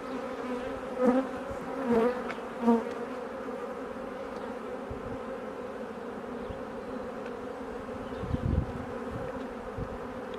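Steady, dense buzzing of many honeybees at close range during a hive inspection, with a few louder swells and faint handling bumps, no voices.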